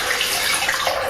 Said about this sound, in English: here I'm adding filtered water